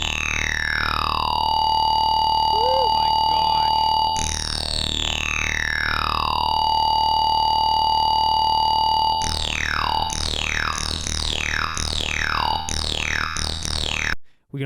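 Synth tones played on a Boss RC-505 loop station, each note sliding downward and fading out slowly with a long decay, first two long sustained sweeps, then a quick series of repeated shorter notes, loud and alone.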